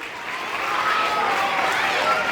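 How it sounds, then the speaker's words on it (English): Steady audience clapping fills a school house closing ceremony as a teacher is honoured, even and continuous for a couple of seconds. "Give a huge round of applause for our ma'am."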